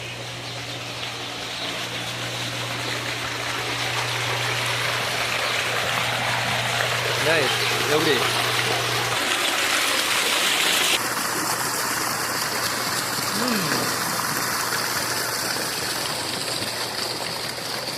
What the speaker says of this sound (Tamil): இந்த பிறகு மோட்டர் கேனில் தண்ணி ஓட்டுறதை உங்களுக்கு காட்டுறேன்